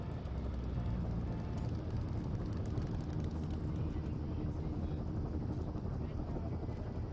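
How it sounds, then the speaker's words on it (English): In the video game Firewatch, a helicopter arrives with a steady, loud, dense rotor roar that holds constant throughout. "There's the helicopter."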